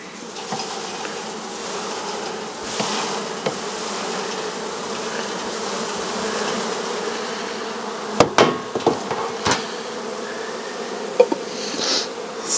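Honeybees swarm around an opened hive during a Varroa mite test, filling the air with a dense, steady buzz, broken late on by a few sharp knocks and clicks of hive parts being handled nearby.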